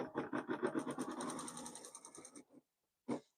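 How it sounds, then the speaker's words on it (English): An embroidery machine stitches an in-the-hoop appliqué triangle in a rapid, close, rhythmic run of needle strokes. It stops after about two and a half seconds, and one short burst of stitching follows after a pause. "Now let's see what sews. It should sew the triangle next."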